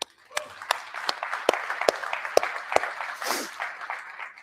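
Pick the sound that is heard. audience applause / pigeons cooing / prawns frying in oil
audience applause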